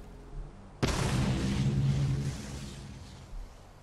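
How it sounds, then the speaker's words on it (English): A plasma bomb detonates in Fallout 4 with Sandman's Alchemy mod: one sudden loud blast, followed by a long low rumbling roar that slowly fades over a few seconds. "we'll throw the plasma bomb, which does energy and ballistic damage"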